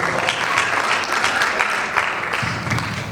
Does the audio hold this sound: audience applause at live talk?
yes